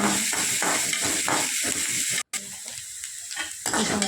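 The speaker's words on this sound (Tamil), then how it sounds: "நல்லா வறுத்து வதக்கிட்டே இருக்கணும் சோனியோட கலர் சேஞ்ச் ஆகிற வரைக்கும் நல்லா வதக்கிட்டே இருங்க" Onions fry and sizzle steadily in a pan for a potato kurma, with repeated scraping stirs at a brisk rhythm, close and loud, broken by one very brief dropout and no speech.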